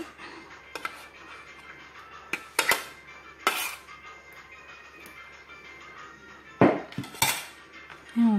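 A metal spoon scraping and knocking against a dish as flour purée is emptied in, intermittent sharp clinks and scrapes, some loud and close, separated by quieter pauses.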